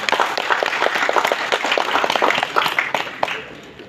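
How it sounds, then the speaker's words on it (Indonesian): An audience at a university graduation ceremony claps in a lively burst of many individual hand claps, fairly close and loud, tapering off after a few seconds. "Boleh tepuk tangannya?"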